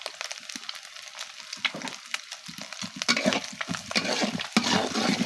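Turmeric, coriander and cumin fry in a pan for leftover-rice bou bhaat as a spoon stirs, giving close, busy scraping and crackling over a light sizzle that grows denser toward the end.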